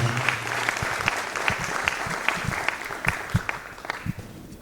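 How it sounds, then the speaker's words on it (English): A round of applause for the director at the SAPTA College graduation ceremony, with a steady crowd of clapping hands and some individual claps standing out, fading slightly toward the end. "Let's give a round of applause to Director"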